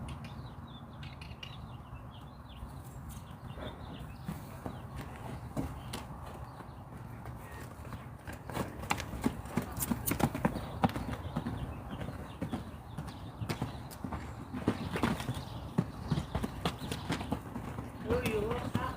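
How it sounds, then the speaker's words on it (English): A horse's hooves clop in a steady pacing and trotting rhythm on the ground, faint to moderate and gradually building. Voices and handling noise surround the hoofbeats. "So this horse paces to the left and trots to the left and only likes going to the left."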